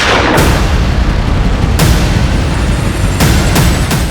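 Several sharp gunshot-like bangs ring out over a loud, continuous rumbling background, spaced irregularly across a few seconds.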